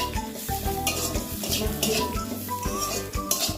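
Cumin, coriander and chilli powder masala with salt fried and stirred in a pan for aloo chop, with busy metallic scraping and clanks of a spatula over a sizzle, close and loud.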